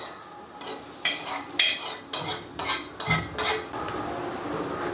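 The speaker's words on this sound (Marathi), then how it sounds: "हे बघा असे पूर्ण मिक्स करून घ्यायचे" Hot tempering being stirred into onions for a chutney, with about eight rhythmic scraping, clinking strokes of a spoon against the bowl, close and moderately loud with no talking.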